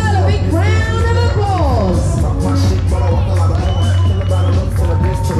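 A lively crowd cheers and whoops at a rap battle event between Emma Armstrong and Cerys Gerdes, a dense, loud wash of voices and shouts with music running underneath throughout.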